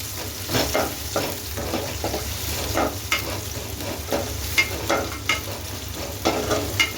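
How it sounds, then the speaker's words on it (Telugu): Capsicum and carrot stir-fried in oil in a pan, with a loud, steady sizzle broken by repeated scraping stirs at an irregular rhythm, close by. "Next capsicum, carrot. కొంచెం మంచిగా కలిపేసుకుంటాం."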